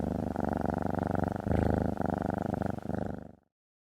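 Cats purr in a continuous, close, rumbling loop of rhythmic pulses, loud and alone, before fading out abruptly.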